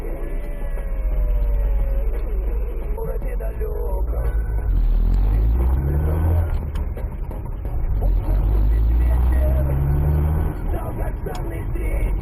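Dense morning rush-hour road traffic in Minsk on a freezing winter day, with a steady loud rumble of car and truck engines throughout, occasional brake hiss and a faint siren-like tone in the mix.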